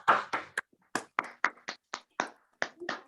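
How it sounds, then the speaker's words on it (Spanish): Clapping during an academic panel on research groups, sounding like a single person or very few hands close to the microphone, with about a dozen separate claps spaced irregularly and gaps between them. "Un aplauso."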